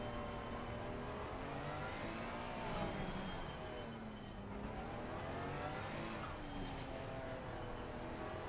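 Racing car engines in Assetto Corsa Competizione at Spa, recorded from real cars, whine and rise in pitch, then fall and climb again as they accelerate and shift, fairly quiet and continuous.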